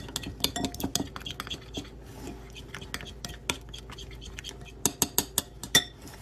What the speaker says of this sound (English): we'll take the candy and we'll spoon it into our wonderful heart-shaped molds